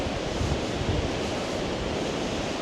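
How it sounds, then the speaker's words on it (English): Ocean waves break at Saunton Sands beach in a dense, continuous roar of surf, loud and close, with a steady wash of hissing foam and no voices. "we've got some nice waves going on as well"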